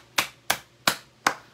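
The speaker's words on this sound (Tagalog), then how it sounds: "Palakpak!" Four sharp, evenly spaced claps ring out at a brisk rhythm from an audience at an MLM business seminar, each one crisp and close, with quiet gaps between.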